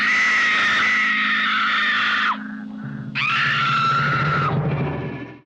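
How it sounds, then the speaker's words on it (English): A woman in a vampire horror film lets out two long, loud, shrill screams separated by a brief breathy pause, the second ending in a strained, falling cry. "She then screams and runs, alerting Lemora that she's escaped."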